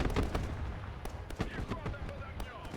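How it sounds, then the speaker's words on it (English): Rapid bursts of grenade blasts and gunfire in the Broken Arrow war game, sharp crackling impacts repeating densely throughout, loud and close, with a voice talking over the battle. "Friendly forces lobbing grenades into our building."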